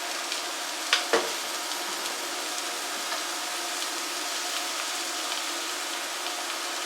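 A mixture with a tablespoon of honey is stirred, making a soft, steady hissing scrape close up, with a couple of sharp utensil clicks near the start.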